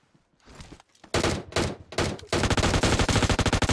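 Gunfire in PUBG Mobile starts with a few scattered shots, then breaks into loud rapid automatic bursts that build into a sustained close-range volley.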